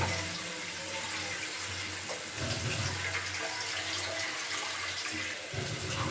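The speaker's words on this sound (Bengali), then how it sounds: "কিছুটা জল দিয়ে দিলাম এর সাথে" Water is poured into a pan of Bengali shukto vegetable curry with milk, a soft steady splashing trickle lasting several seconds.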